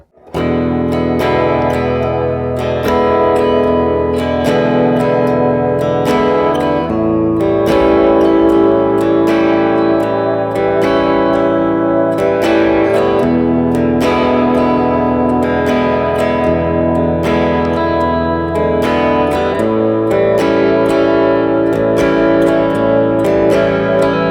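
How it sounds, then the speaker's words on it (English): Electric guitar strumming bluesy chords in a steady down-up rhythm, loud and continuous with some strums accented. "When strumming these chords, start out with a simple down-up pattern."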